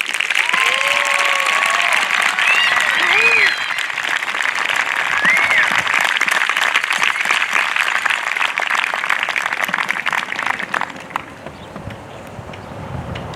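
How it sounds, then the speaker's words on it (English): Sustained audience applause for a graduating eighth grade class at a school promotion ceremony, dense steady clapping from a crowd with a few whoops, tapering off near the end. "Please join me in offering the first congratulatory round of applause to the remarkable class of"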